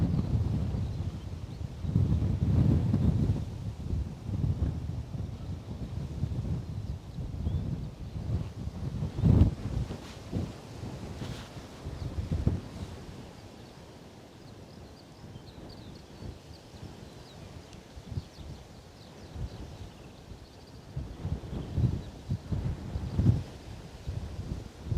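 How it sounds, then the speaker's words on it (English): Wind gusts and rumbles across a microphone at Bristol Airport, heavy and buffeting at first, easing in the middle, then surging again. "It's wind, honestly."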